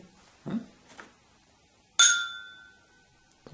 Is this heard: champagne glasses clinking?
yes